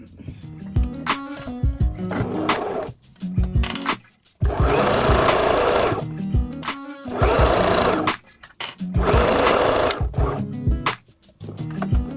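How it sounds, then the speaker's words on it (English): A sewing machine stitches a fabric headband in several loud, steady runs of rapid needle hammering. Short pauses and clicks fall between the runs, and the machine is heard close up with no talking. "I'm just going to sew another line to get it even"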